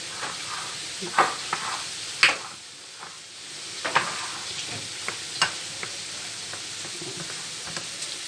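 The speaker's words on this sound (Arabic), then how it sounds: "هنقلب كل ده ببعض كده بس بالراحة ايه عشان الطعمية ما تهبطش وتبقى مكتومة" Ta'ameya (Egyptian falafel) topped with sesame seeds fries in oil while being gently stirred, giving a steady close sizzle broken by scattered scraping clicks and soft splashes, with no voices.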